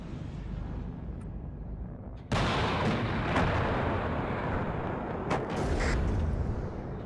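Gvozdika self-propelled artillery in the WARNO strategy game: after a steady low battlefield rumble, a sudden loud blast opens into a sustained roaring barrage with scattered sharp reports, heard without talk.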